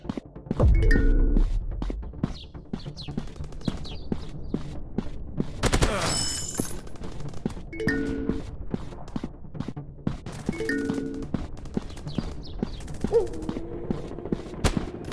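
Rapid gunfire bursts and single shots crack through a first-person shooter game, with mechanical reload clicks and impact thunks between volleys, loud and close.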